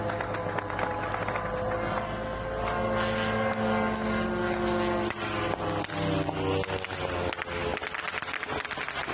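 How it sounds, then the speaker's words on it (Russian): A loud, droning propeller engine of a Ukrainian Lyuty attack drone buzzes steadily overhead during a strike on a Moscow oil refinery, with crackling bursts and pops scattered through it; no talking. "Украинский дрон «Лютый» попадает по московскому нефтеперерабатывающему заводу"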